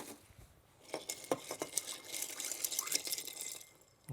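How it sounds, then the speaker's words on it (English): An El Presidente rum cocktail stirred with ice: close, light clinking and rattling of ice cubes against glass in a quick, irregular rhythm, fairly quiet and alone. "now we stir this with ice"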